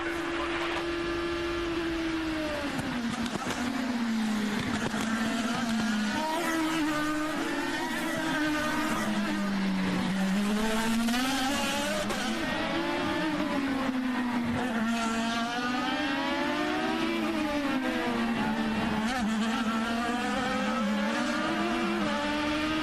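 IndyCar race cars at the 2011 Toyota Grand Prix of Long Beach, engines droning and shifting in pitch as cars pass, a continuous loud high whine with rising and falling tones and no talk.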